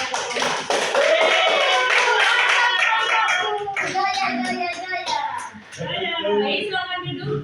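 A classroom of students applauds a group of presenters after their talk, a dense burst of many hands clapping that holds steady for several seconds before thinning out.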